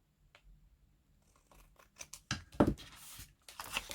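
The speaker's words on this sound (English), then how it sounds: "So what I want to do is just cut this off here." Scissors cut through a piece of card for a craft tag folio, starting with soft handling rustles and building into several close, crisp snips near the end.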